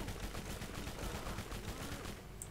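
Rapid automatic gunfire crackles through a Borderlands firefight, dense repeated shots close and loud for a couple of seconds before easing off.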